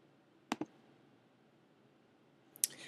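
Computer mouse clicks during a song export in GarageBand: a quick double click early on, then a brief silence, and a second sharper click burst near the end, close and crisp.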